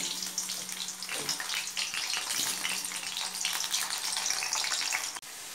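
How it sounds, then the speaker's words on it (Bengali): Potatoes fry in mustard oil in a pan, a dense, loud sizzle broken by a couple of stirring scrapes, with a faint low hum underneath before the sound cuts off abruptly near the end. "আলুগুলোকে ভালো করে ভেজে নিই।"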